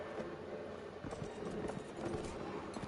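Horse hooves clip-clop at a brisk, steady rhythm in the medieval combat game Mount and Blade: Warband, fairly close and distinct over faint background noise.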